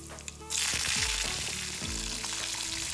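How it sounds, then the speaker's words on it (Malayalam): Mustard seeds, shallots and curry leaves hit hot oil in a pan and burst into loud, continuous sizzling, with crackling and popping close up that keep going after the quiet start. "അതിലേക്ക് കുറച്ച് എണ്ണ ഒഴിച്ച് കടുക്, ചെറിയ ഉള്ളി, കരിവേപ്പില ഇത്രയിട്ട് ഒന്ന് വറുത്തെടുക്കാം."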